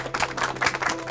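A burst of audience clapping at a village panchayat meeting: a short run of several hands clapping together, rhythmic and moderately loud, lasting about a second.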